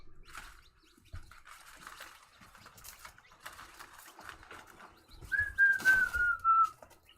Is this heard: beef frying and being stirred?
no